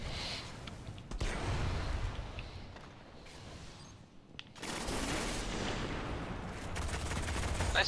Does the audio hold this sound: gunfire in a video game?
yes